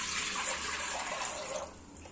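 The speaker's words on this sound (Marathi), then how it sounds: "तेवढंच पाणी टाकून घेऊया।" Water pours steadily into a cooking pot for making wheat kurdaya, a continuous close rushing splash that eases slightly near the end, with no talking.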